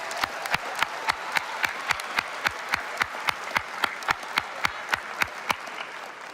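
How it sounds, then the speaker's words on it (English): At a 2024 School of Pharmacy graduation ceremony, an audience applauds the graduates, with crisp, evenly spaced claps rising above a steady wash of clapping at moderate volume. "I welcome a final round of applause for these graduates"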